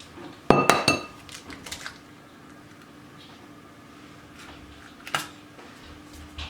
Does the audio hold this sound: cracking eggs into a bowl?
yes